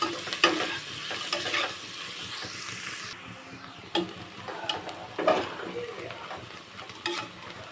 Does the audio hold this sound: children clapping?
no